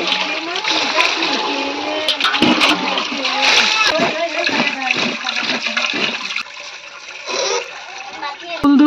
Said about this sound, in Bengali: এই এতটা কুল নিয়েছি, এখন ধুয়ে নেবো কুলটা।